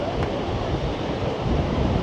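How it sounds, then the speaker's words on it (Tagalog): Strong wind and big surf on a Mediterranean beach roar steadily for two seconds, loud and close, with broadband wave wash and wind buffeting the microphone throughout. "Grabe yung alon din, ang lalaki."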